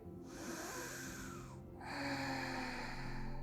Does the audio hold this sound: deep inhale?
yes